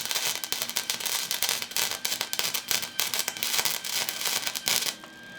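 Welding on a BMW E30 during restoration gives a dense, loud, steady crackle and sizzle with rapid popping, which cuts off abruptly near the end.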